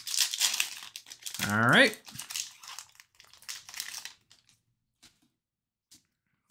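Foil trading card pack wrappers, hockey card packs at a group break, are crinkled and torn open up close in bursts while a person speaks briefly, then the sound drops to near silence.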